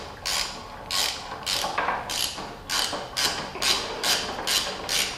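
A fork spring cap is threaded down onto an SSR Razkull motorcycle fork. About ten crisp, evenly spaced ratcheting clicks sound close up, with no talk.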